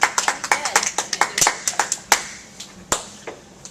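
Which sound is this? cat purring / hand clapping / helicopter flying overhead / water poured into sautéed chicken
hand clapping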